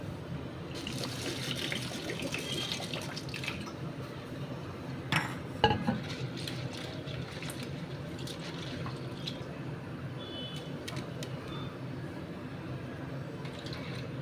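Red lentils being washed in water in a kitchen sink, a continuous soft swishing and trickle with occasional clinks of a bowl or utensil, close and fairly quiet, no talk.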